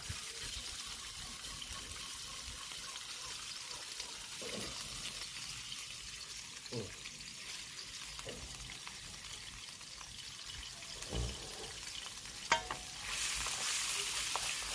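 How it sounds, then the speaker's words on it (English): Very finely cut pork frying in a hot, smoking pan, giving a steady, fairly quiet sizzle with a few louder crackles and stirring scrapes and no talk. "The pan's hot enough and it'll cook this up quite a treat."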